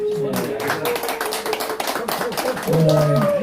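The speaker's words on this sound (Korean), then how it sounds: "우리 윤장영 지도교수님께 박수 한번 해주십시오." An audience at a Korean business-management course opening ceremony claps for a faculty advisor, scattered hand claps mixed with a speaker's voice and a brief tonal sound near the end.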